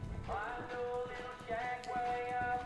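Horse hooves on a reining arena surface during a four-year-old non-pro futurity run at NRHA Oceania 2024, steady rhythmic thuds under a commentator's voice and arena ambience.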